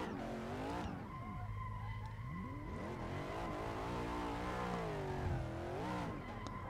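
A Chevrolet Corvette HGK drifting at Long Beach in Assetto Corsa gives a continuous loud tyre squeal over a revving engine, with the pitch swooping up and down as the car slides through the corners.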